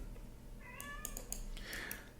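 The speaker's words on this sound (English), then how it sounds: "If you can hear meowing in the background" A cat meows a few times nearby, a drawn-out plaintive call followed by shorter cries, over a quiet background hum.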